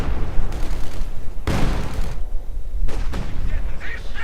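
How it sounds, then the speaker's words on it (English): An SU-76 self-propelled gun firing in the real-time strategy game Company of Heroes 2, loud booming shots with a couple of sharp blasts amid ongoing battle noise and heavy low rumble. "SU-76 firing away"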